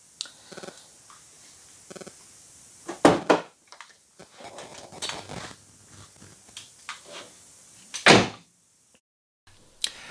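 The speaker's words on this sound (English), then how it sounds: "the driver's door seems to close okay" The driver's door of a racing car, bent at the bottom corner after track damage at Snetterton, opens and shuts, with a few sharp thuds and handling clatter spread across a quiet background.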